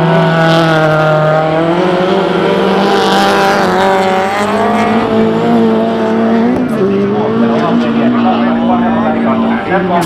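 Volkswagen 1500 S rally car racing uphill in a Finnish motorsport event, its engine roaring loudly and continuously with rising and falling revs, while a commentator talks over it throughout.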